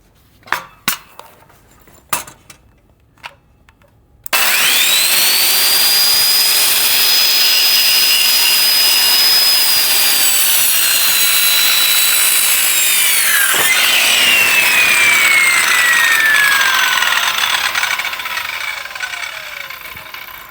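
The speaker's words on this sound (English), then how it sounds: "now I'm going to cut on the side, and I have the blade on the side where the X is." Power saw blade whining through wood for a basement stair landing repair, starting after a few clicks and knocks, then running loud and continuous for about fifteen seconds, pitch shifting mid-cut before tapering off.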